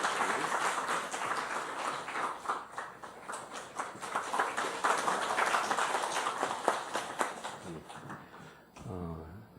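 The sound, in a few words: applause at a church certificate presentation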